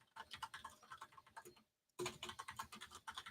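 Rapid typing on a computer keyboard, a dense close patter of key clicks that stops briefly for a moment of silence, then resumes just as quickly.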